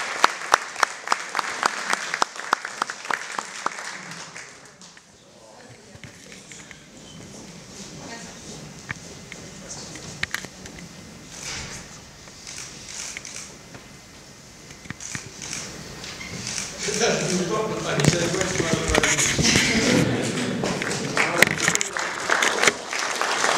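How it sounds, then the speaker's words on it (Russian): Audience applause at an award ceremony where Shaimiev presents an honor to Vasilyev, loud clapping that dips in the middle then swells again, with speech partly mixed in. "Аплодисменты."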